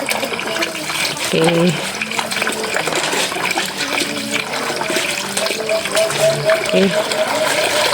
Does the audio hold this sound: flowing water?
yes